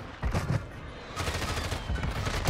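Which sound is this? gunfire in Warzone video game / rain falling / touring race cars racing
gunfire in Warzone video game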